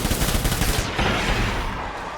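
Gunfire in the video game Death Stranding: loud, dense bursts of shots roll together into a continuous barrage that runs the whole stretch, with no voices.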